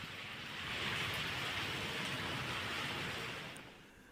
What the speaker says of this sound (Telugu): అబిడ్స్, ఎంజే మార్కెట్, కోటి పరిసర ప్రాంతాల్లో కూడా భారీ వర్షం కురుస్తున్న దృశ్యాలు మీరు బిగ్ టీవీ స్క్రీన్ పైన చూస్తున్నారు